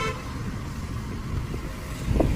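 A car horn gives a short toot near the start, heard from inside a car on a night drive through Pune, over a steady low rumble of the engine and road.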